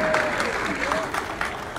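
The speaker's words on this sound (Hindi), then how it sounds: "हसलो हसलो ताली ठोको।" A crowd at a political rally claps together in a dense, continuous burst, with a sung or shouted voice briefly rising over the applause throughout the short stretch.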